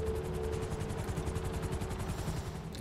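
Helicopter in the video game GTA 5 Online, a steady rapid rotor thump with constant engine whine throughout, loud and close with no speech.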